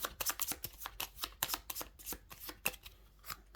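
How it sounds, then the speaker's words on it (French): Cards being shuffled by hand during a solo game of the board game Ceres, a quick run of crisp riffling bursts and slaps, close and fairly quiet, with no talk. "il faut mélanger"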